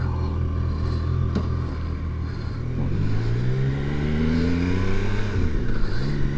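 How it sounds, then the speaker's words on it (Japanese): Triumph Tiger Sport 660 motorcycle cranking on its starter and catching, the engine note rising and revving steadily up close, loud and continuous with no talk. "クラッチを握ってセルが回る。"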